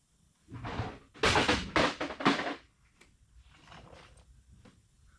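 A cat knocks objects off surfaces in a home workshop during truck body repair, making a burst of close clattering thumps and knocks that trails off into softer, scattered rattles.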